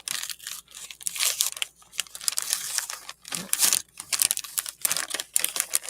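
A mail package being cut and torn open up close, with busy crinkling, scraping and tearing of the wrapping in irregular bursts.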